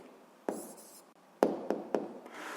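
A pen scratches and taps across paper in a few short strokes, quiet and close, with small pauses between marks.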